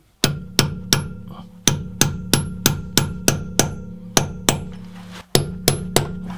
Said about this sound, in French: Et maintenant je mate l'écrou.